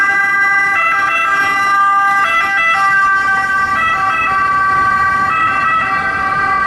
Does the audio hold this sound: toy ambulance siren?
yes